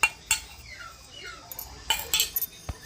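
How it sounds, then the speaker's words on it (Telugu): Ridge gourd is pounded in a mortar together with green chilli, tomato, salt, garlic and cumin. Faint, irregular knocks and clinks of the pestle come close up, with short quiet gaps between them. "బీరకాయ వేసేసుకొని దంచేస్తాము"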